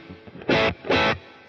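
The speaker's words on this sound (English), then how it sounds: "So if you want to have your high cut flat, you get all this top end reverb." Two bright, washy bursts of guitar reverb with the high cut left flat, so the top end stays open and shimmering; each swell lasts about a quarter second, loud and alone, over a low hum.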